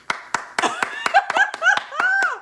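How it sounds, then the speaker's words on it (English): A few people clap in scattered, uneven strikes during a talk show, close and loud, with laughter and talking running through the claps. "Everybody clap."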